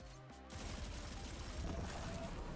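Rapid gunfire aimed at a turret in a shooter video game, a dense continuous burst of shots that starts abruptly and roars steadily, loud and close.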